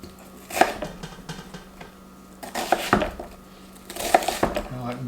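A knife chopping onion into coarse chunks on a cutting board for a deer stew, three clusters of sharp clacking cuts separated by short pauses, fairly close, with no talking.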